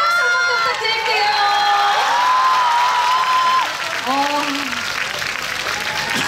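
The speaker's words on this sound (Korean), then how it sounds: "박수 한번 부탁드릴게요." An outdoor rose festival concert audience applauds and cheers, a loud sustained wash of clapping with voices calling out and a person talking over it.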